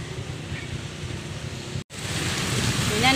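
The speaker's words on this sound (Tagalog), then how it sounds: "Kasi umuulan." Steady rain falls outdoors near a small shop, a constant broadband hiss with a brief dropout partway through, then continuing slightly louder.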